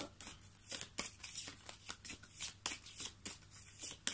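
Tarot cards shuffled by hand in a quiet room, a steady series of crisp riffling bursts with soft papery slaps between them, close and fairly quiet with no voices.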